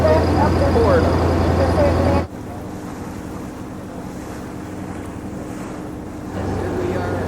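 Loud, steady engine drone and rushing water from the back of a crowded tour boat near Phuket, carrying on throughout with a brief drop partway before the roar swells again.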